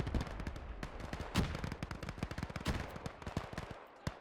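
Machine gun fire crackles through a Gates of Hell World War II battle as German defenses are encircled, with dense overlapping bursts of rapid shots and heavier booms rattling on without pause.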